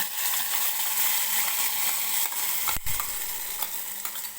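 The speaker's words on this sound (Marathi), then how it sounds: "जिरं व्यवस्थित फुललं की कढीपत्त्याची आणि हे जे बारीक केलेलं खोबरं आहे चटणी बनवायसाठी ते टाकून घ्यायचं आहे" Curry leaves and grated coconut fry with cumin in oil for coconut chutney, producing a constant close sizzle with occasional scrapes and a sharp clatter of a utensil partway through.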